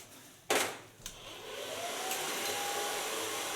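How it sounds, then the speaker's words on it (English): Hair dryer blowing on hair during a salon blow-dry, a steady whooshing airflow that rises and holds after a couple of sharp knocks near the start, moderately quiet and alone. "blow dry the hair and then I'm gonna give it some effect"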